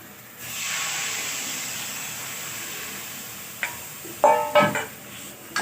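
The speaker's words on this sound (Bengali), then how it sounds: "এবার জল দিয়ে দেব।" Water poured into a hot pan of spiced fish curry masala sets off a sustained hissing sizzle that holds steady for several seconds, followed near the end by a few sharp clattering stirs and scrapes.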